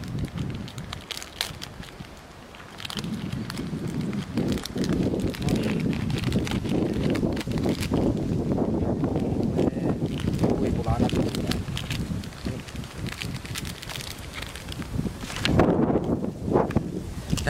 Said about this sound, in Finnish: Täällä vähän tuulee.